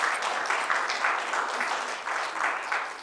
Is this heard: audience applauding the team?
yes